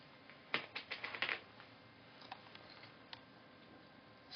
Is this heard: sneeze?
no